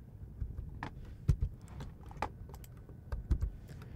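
Keys tapped on a computer keyboard in a quiet room, a scattering of soft, uneven clicks with a few sharper presses standing out, close and alone.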